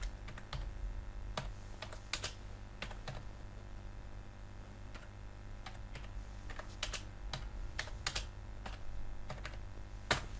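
Typing on a computer keyboard while entering a description in WordPress, with quiet, irregular key clicks and occasional louder taps over a low background hum, and no speech.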